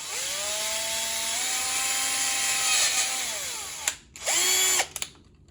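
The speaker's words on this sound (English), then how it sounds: "So that means we're going to have to drill a hole right through here" A power drill bores a hole through a tray in a Hasbro GPStar wand kit, a steady whine rising and falling in pitch for about four seconds, then a brief pause and a second short burst, close and alone.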